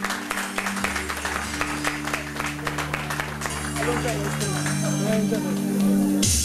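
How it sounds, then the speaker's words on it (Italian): Applause and scattered clapping from a festival crowd in Gragnano rise and swell across the clip, mixed with crowd noise and shouts over a steady low hum of music. "un applauso forte a Leonardo"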